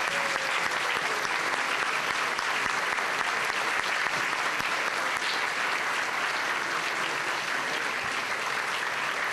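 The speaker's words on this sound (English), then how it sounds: "I think that you should stand up now for a round of applause." Sustained applause from a large audience at a youth recognition awards ceremony, steady and dense clapping throughout with no pauses.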